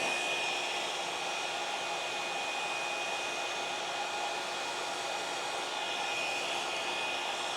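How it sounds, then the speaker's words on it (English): A hair dryer blows steadily and loudly the whole time while hair is blow-dried before curling with velcro rollers, a constant even whoosh with no talk over it. "We're just gonna blow dry it and curl normally."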